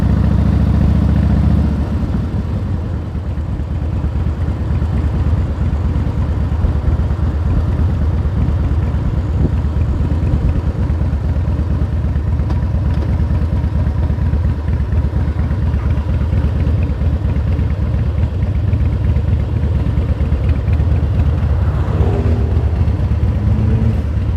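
A car rolls along a road in Delray Beach, a steady low engine drone and tire rumble continuing unbroken from start to end, with no one speaking.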